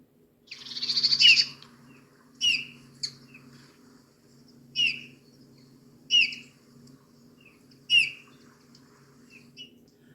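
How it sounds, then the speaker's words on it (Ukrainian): A bullfinch gives a long first call, then short piping calls spaced a second or two apart, clear and fairly close against a quiet, low background hum. "це снігур"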